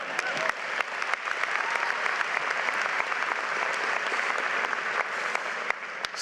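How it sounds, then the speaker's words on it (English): A large convocation crowd applauds students at a university welcome ceremony, steady dense clapping with a few sharp individual claps standing out, sustained evenly throughout. "A special applause for the students from Pullman that are here."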